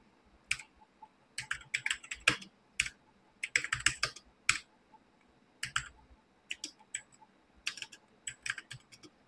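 Names being typed on a computer keyboard produce close, crisp key clicks in irregular bursts and clusters with short gaps between them, with no voices.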